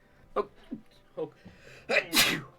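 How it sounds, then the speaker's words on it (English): A sneeze bursts out near the mic, a few short inhaled gasps building to a loud, sharp final expulsion, with some vocal sounds mixed in. "I just sneezed."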